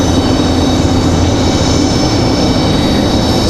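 A Republic Airways jet taking off from Raleigh-Durham for LaGuardia, a steady broad roar of engine noise with a faint high whine, continuous and fairly close throughout.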